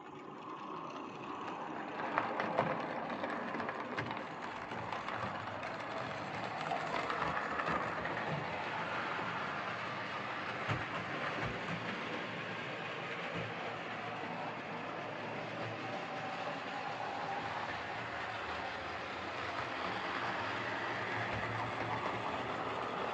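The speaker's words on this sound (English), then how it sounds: "Well, that actually runs not too bad at all," A Bachmann Branchline Class 4 model locomotive, an overhauled donated model, runs steadily on its track, giving a continuous low mechanical hum and whir with faint rail clatter, close by and without speech.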